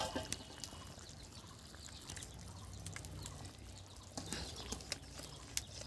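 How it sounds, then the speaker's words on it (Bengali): Fish pieces go into a thin, boiling Bengali fish curry broth with ridge gourd and drumsticks, a soft watery bubbling and sloshing with light splashes and drips, quiet and close, without speech. "এবারে আমি এখানে মাছগুলো দিয়ে দেবো।"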